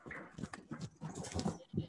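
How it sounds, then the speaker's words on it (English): Dog whimpering and whining at home while its owner is away, a close, continuous run of high, wavering cries with short breaks, heard on its own. "I got a dog driving me absolutely nuts here because his mom is not home"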